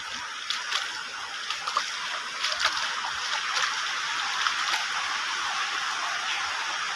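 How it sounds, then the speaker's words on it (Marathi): Floodwater rushing through a flattened soybean field, a continuous broadband rush of flowing water with occasional splashes, steady and moderately loud. "आणि पाण्याचा ओढ जास्तपणे वाढत चाललेला आहे"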